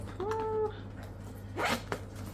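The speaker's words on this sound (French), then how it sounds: "en plus, il y a la fermeture éclair" A zipper on a packed bag is drawn shut in a couple of short, close zips, quiet and alone.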